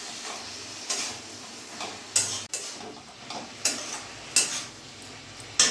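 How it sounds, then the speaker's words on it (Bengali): Curry with added water being stirred in a pan: a steady simmering hiss broken by soft periodic scrapes of a spoon against the pan, roughly one every second, close and fairly quiet. "এবার ভালো করে নাড়াচাড়া করে মিশিয়ে নেব।"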